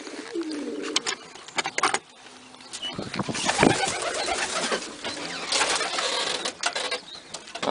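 Racing pigeons coo in a breeding loft, soft throaty calls repeating near and far over a busy background of wing flutters and shuffling, with no talk.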